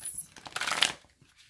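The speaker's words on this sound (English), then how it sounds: "I have one more shuffle." A tarot card deck is riffled in one brief close shuffle, a quick burst of flapping card edges lasting under a second, with no talk over it.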